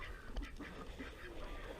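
Farmyard ducks quack during morning chores as feed is tossed to them, several faint, short quacks scattered over windy outdoor background noise, somewhat distant and without talking.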